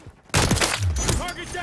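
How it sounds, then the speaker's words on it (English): Gunfire from Call of Duty Modern Warfare 3 multiplayer comes as a sudden loud burst of shots and blasts, mixed with game voice callouts. "Taking effective fire."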